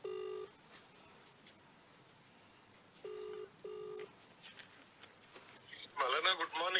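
Telephone call being placed: a few steady dial or ring-back tones sound in separate bursts, with a brief noisy, voice-like stretch near the end.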